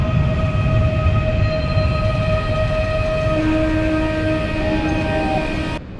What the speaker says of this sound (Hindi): तो भाई फाइनली आ गई है बुलेट ट्रेन, ये रही पीछे ट्रेन